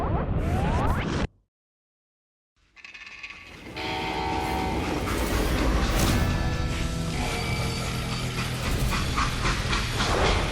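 A freight train rolls past with rumbling wheels and a blaring horn, after a short silent gap; audio from the game Call of Juarez: Gunslinger, loud and continuous.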